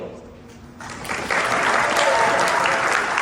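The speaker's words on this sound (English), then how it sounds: "Alright, another round of applause for Victor." Audience applause at a fursuit dance competition, starting quietly and swelling into loud, sustained clapping and crowd noise after a second, continuing strongly to the end.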